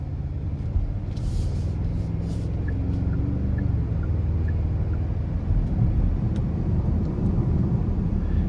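A 2023 Genesis G80 RWD 2.5T in sport mode accelerating, with a steady broadband engine and road roar that stays even and close throughout, with no talking.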